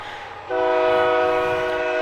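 A train horn blasts abruptly beside a ballpark and holds loud and steady to the end, over a low background rumble with no voices.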